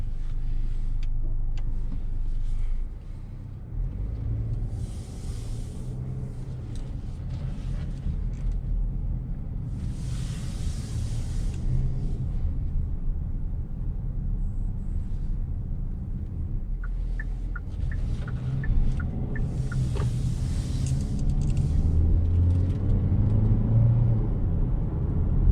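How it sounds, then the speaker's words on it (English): A 2022 Hyundai Santa Fe SUV cruises along, its low engine and road rumble steady and close throughout, with faint creaks and mechanical rattles inside the cabin. "Alright, so driving this 2022 Hyundai Santa Fe"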